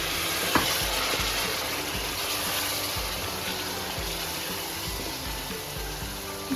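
Onions sizzling steadily in a frying pan after a splash of water is added, a dense continuous crackle with occasional louder pops and stirring scrapes throughout.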